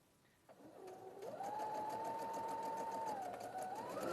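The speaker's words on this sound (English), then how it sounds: "understitching is where you have your seam towards your pocket and you're going to sew nice and close to it" Electric sewing machine understitching a pocket seam, starting with a short burst, then running at a steady fast whirring pace close by, with a slight change in speed near the end.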